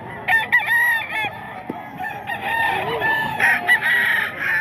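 Roosters crow repeatedly at close range, with overlapping cock-a-doodle-doo calls and clucking from nearby fowl, loud and continuous throughout.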